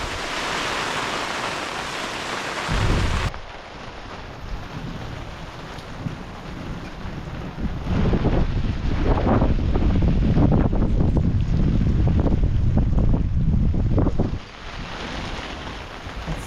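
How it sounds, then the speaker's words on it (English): Storm wind roars through the Rocky Mountains, heavy gusts buffeting the microphone in loud, rough bursts that swell and ease over the stretch, with no one speaking. "This is our second rager of a storm. And it's coming from a different direction too."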